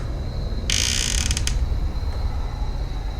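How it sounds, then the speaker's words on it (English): A door in a supposedly haunted house gives one short, high creak lasting under a second against a steady background hiss, moderately loud and close, with no voices. "somebody open that door"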